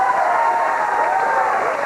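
A television comedy studio audience applauds and cheers to vote for a contestant, a steady wash of clapping from a crowd with some voice mixed in.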